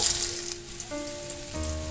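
Small new potatoes fry in hot oil, giving a close, continuous sizzle and crackle with shifting tones as pieces move in the pan.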